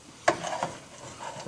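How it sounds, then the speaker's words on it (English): Cajun shrimp with lemon being tossed and coated in a bowl, giving a short wet scrape and clack followed by soft rubbing, close and fairly quiet with no talking. "I'm going to coat the shrimp"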